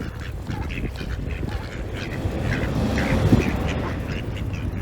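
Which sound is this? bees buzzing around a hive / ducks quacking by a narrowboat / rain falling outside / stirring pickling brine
ducks quacking by a narrowboat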